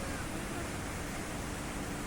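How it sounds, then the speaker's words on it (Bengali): A fast-flowing mountain waterfall beside a trail near Tinchuley gives a steady, dense roar of rushing water, even and continuous throughout with no voices. "সুন্দর খরস্রোতা একটি ঝর্ণা"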